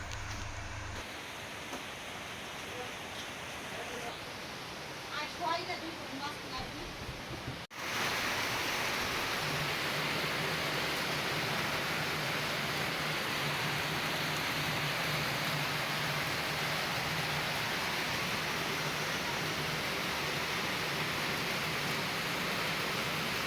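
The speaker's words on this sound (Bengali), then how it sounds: "বাইরে প্রচণ্ড বৃষ্টি" Heavy rain outside, a dense, steady hiss that starts abruptly after some quieter room sound and continues strongly and evenly throughout.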